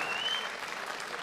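Audience applause in a fight-event hall, a brief dense burst of clapping that begins loud and stays even, with a short whistle near the start.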